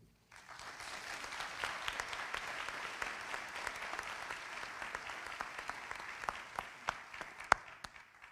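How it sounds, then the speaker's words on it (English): An audience applauds at the Whiddon Rogers Education Center graduation ceremony, with dense sustained clapping filling the hall and a few sharper individual claps standing out as it tapers near the end. "Give him another round of applause"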